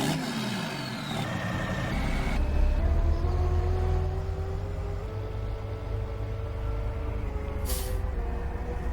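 A tractor engine in the Farming Simulator 19 video game, on the Saxony map, revs and climbs through its gears with rising and falling pitch, loud and continuous, and a short hiss like an air brake near the end.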